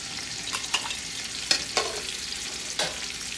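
Onions and spices frying in a pot for tahari, with a steady low sizzle broken by a few sharp stirring scrapes and clatters close by.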